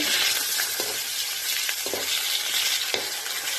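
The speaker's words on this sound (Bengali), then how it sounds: "আলুটা ভেজে নিচ্ছি খুব সুন্দর করে" Potatoes frying in hot oil in a home kitchen: a loud, steady, close sizzle throughout, broken by a few soft scrapes and clinks of stirring.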